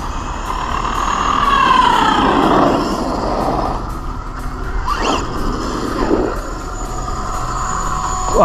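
Traxxas Slash VXL 2WD RC car with Hot Racing 32-pitch 18/56 gears doing a speed run on 2S, its motor whining up and down in rising sweeps as it passes, with tyres rubbing under a steady loud roar.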